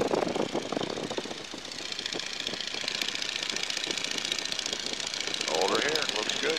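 Stearman biplane radial engine running at climb power around 1825 RPM in flight, a loud steady rapid-beat drone throughout with a voice talking over it.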